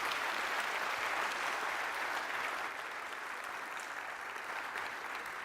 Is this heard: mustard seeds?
no